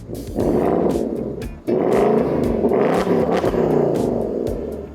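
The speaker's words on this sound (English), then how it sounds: "The new Mustang has remote revving" A Ford Mustang engine, revved by remote, revs hard and loud up close, in two sustained bursts with a brief dip between them and no talking.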